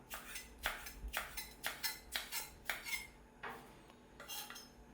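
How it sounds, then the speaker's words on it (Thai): A knife slices through chili peppers on a cutting board in a series of crisp, regular cuts, close by with no talking. "พริกชี้ฟ้าหั่นแฉลบนะครับ"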